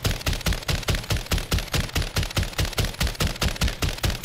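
A JAK Protean RAAL gun in a video game fires rapidly, a long steady string of punchy shots at an even, fast rhythm, loud and close with no pauses.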